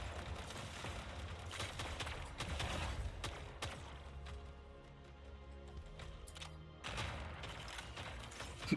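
Fuse mortar fire in the mech combat game Mech Arena, a dense stretch of booming blasts and mechanical clanks amid continuous battle rumble, with louder bursts near the start and end, no voices.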